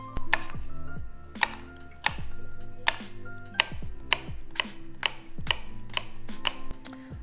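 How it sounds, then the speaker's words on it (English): A knife slices thinly through crisp Honeycrisp apples, each cut ending in a sharp tap on the cutting board. About a dozen cuts fall in a steady, even rhythm, close and distinct, with no voices. "I'm going to slice up the apples. I always use Honeycrisp apples."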